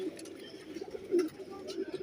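A perwazi pigeon coos softly up close, giving a short low murmur that swells once in the middle of the brief stretch.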